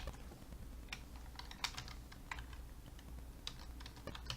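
Fingers tap a computer keyboard while a user name is entered, producing a light, irregular run of close key clicks with a few slightly louder strikes.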